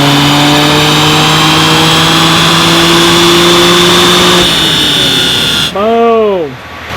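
BMW 335i on a dyno, engine revving loudly through a sustained pull with steadily climbing pitch, then backing off and briefly blipping as the run ends, with voices audible under the noise.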